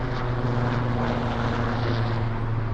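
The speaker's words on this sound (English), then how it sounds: "Oh, got an airplane. Or helicopter." A propeller airplane drones steadily overhead, a continuous low engine hum with a rich, constant tone and no other sounds.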